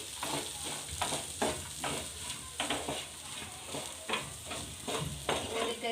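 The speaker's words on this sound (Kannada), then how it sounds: "ಒಂದು ನಿಮಿಷ ಸುಮ್ಮನೆ ಫ್ರೈ ಮಾಡ್ಕೊಂಡ್ರೆ ಸಾಕು ಅದು ಮಿಕ್ಸ್ ಆಗೋವರೆಗೆ" Ivy gourd (tindora) curry is stirred and fried in a pan, a steady sizzle running under repeated scraping strokes of a spoon against the pan, with no talking.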